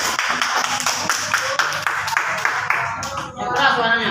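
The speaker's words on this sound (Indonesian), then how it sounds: "Tepuk tangan dulu untuk temannya Zahwa." Children in a primary school classroom clap for a classmate in a quick rhythmic burst of claps that keeps up for about three seconds before fading, followed by a teacher speaking.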